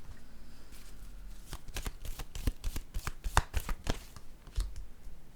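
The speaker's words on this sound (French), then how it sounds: "Là, je vais déposer une carte ici." Tarot cards handled and laid down on a table during a reading, a run of close, crisp card slaps and shuffling taps of varying loudness with no talking.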